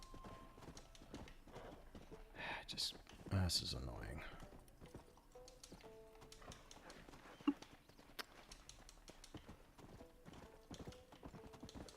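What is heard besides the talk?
horse galloping, clip-clop hooves, in Red Dead Redemption video game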